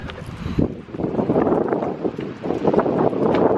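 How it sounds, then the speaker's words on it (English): Steady outdoor wind noise buffeting the microphone with a broad rushing wash, with rain mixed in, continuous and fairly loud throughout. "it's raining, it's windy, it's ugly out today"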